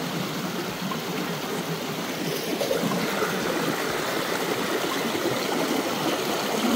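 Steady rushing of stream water over rocks during a river crossing near Koodlu Theertha Falls, Agumbe, Karnataka; a continuous broadband wash that swells slightly louder toward the end, close and alone with no voices.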